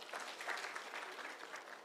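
An audience at a public security forum at a teachers' college in Migori Town applauds, a brief, fairly faint burst of steady clapping from a crowd.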